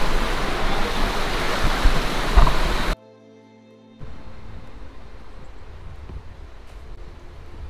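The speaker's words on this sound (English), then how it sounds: "We are heading where the water is flowing." A stream rushes and babbles steadily nearby on a hiking trail, a continuous broadband flow that drops out briefly before resuming a little softer.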